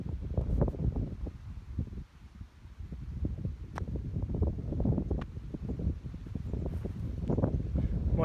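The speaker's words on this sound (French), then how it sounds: "il faut savoir qu'il y a un vent à 50 km/h de dos" Strong tailwind of about 50 km/h sweeps across an open golf course, buffeting the microphone with loud, continuous low rumbling gusts and ragged bursts throughout, no voices present.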